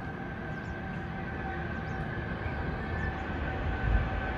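A train running through the Qinling mountains near Ankang in Shaanxi, heard from a hillside road: a distant, steady low rumble that holds evenly and swells slightly near the end.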